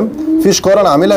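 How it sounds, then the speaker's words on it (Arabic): A pigeon coos on a rooftop, its low, soft calls close by and mixed with someone talking over it. "ففرد الحمام زي ما احنا شايفين اهوت واقف لي على السطح"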